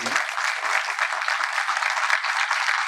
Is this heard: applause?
yes